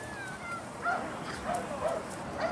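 A police dog barks and yelps several times at moderate distance during an indoor search, the short barks rising over a constant background hum.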